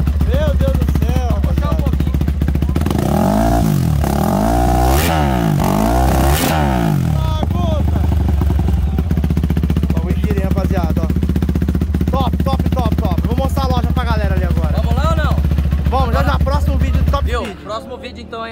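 A small 50-horsepower motorcycle engine idles loudly and close in a racing preparation workshop, revving in a few sharp bursts before settling back to a steady drone that cuts off at the end.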